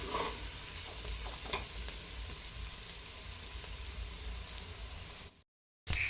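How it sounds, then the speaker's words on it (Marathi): Steady, close sizzling of paneer shallow frying in butter on a hot griddle, with a few brief stirring clinks, then a short cut to silence near the end. "पनीर आता आपण असं तव्यावर छान शालो फ्राय करून घेऊया, थोडंसं बटर टाकून"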